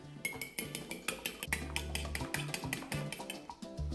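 A fork beats an egg in a plate with quick rhythmic clinks and taps, about a dozen strokes in a steady beat, close and fairly quiet, with no talk.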